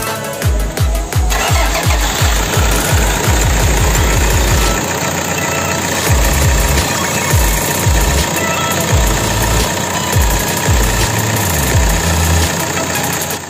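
A Toyota Innova diesel engine is cranked by its starter with rapid repeated thumps, catches, and settles into a loud, rhythmic diesel idle close by.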